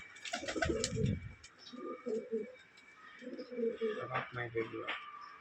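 Large-feathered Jack pigeons coo in a few soft, throaty bursts, close by and fairly quiet, with some faint background noise between calls.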